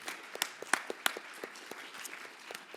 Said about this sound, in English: to give her a round of applause for her tireless efforts in this review over the past year